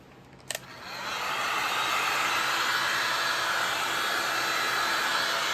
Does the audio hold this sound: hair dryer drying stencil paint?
yes